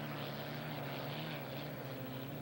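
A helicopter flying over a 1982 Seattle hydroplane race, a steady low rotor and engine drone, faint and continuous with no voices.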